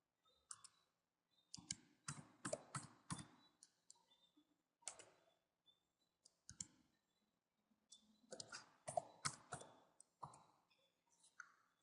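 Clusters of sharp key clicks in quick bursts and pauses, someone typing a command on a computer keyboard to delete log files, close and clear with no talking.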